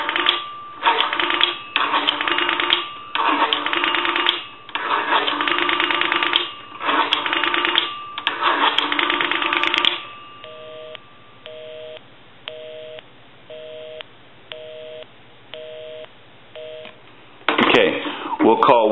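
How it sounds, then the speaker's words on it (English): Rapid bursts of touch-tone dialing from a repaired three-slot 233G payphone, then a repeating busy signal of short evenly spaced tones, and finally a brief return of the steady dial tone, with someone speaking. "give you some more dial tone. I want to call my number and it'll be busy."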